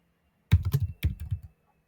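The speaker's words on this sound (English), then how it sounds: "As we start typing in some names" Keys clacking on a computer keyboard as names are typed into a freight-compliance web portal: two quick bursts of close, crisp strokes about a second long, with no voices.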